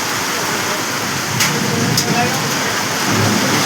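Heavy rain pours in a dense, constant roar during a storm with strong gusting wind in Garia, Kolkata, close and loud throughout with no pauses.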